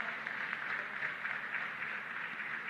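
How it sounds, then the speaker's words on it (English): Steady crowd applause fills a ceremonial turnover of a fertilizer donation from the People's Republic of China to the Philippines, a dense, even wash of many hands clapping with no talk. "Let's give everyone a round of applause."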